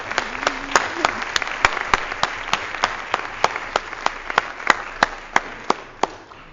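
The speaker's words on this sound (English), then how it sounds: "I want to give him a round of applause" Audience applause at a law school alumni awards ceremony, steady clapping from a modest crowd in a hall, with sharp individual claps standing out, sustained throughout and fading slightly at the end.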